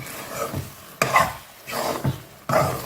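Thick moong dal and palm-jaggery halwa being stirred in a pan, a few slow scraping, sticky sweeps spaced about a second apart, close and fairly soft with no talking.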